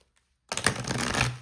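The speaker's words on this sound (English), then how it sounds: "hear that noise of all the cards just shuffling so beautifully together" A deck of tarot cards riffled and shuffled together, a brisk papery clatter starting after a short silence and continuing steadily at close range, with no talking.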